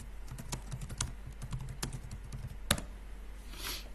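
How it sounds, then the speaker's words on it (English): Keys clatter on a computer keyboard in a quick, uneven run of close taps, with one sharper stroke near the end and a faint hiss at the finish. "let me type this in"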